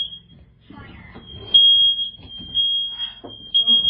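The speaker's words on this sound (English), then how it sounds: "Real fire alarm." A household smoke detector sounds a loud, continuous high-pitched alarm tone that runs throughout, with short gaps and pulses, while people talk nearby underneath it.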